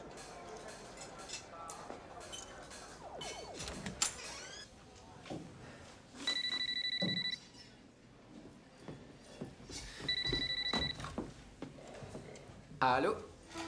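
A telephone rings twice in an animated series, each short electronic two-tone ring lasting about a second, separated by a few seconds and set against background music and other sounds.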